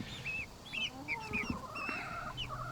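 Chickens cluck repeatedly in short, quick calls at moderate distance over a quiet outdoor background, with a few soft thumps.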